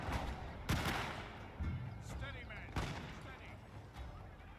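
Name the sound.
musket volley fire from Tercio formation, video game Shogun 2 Total War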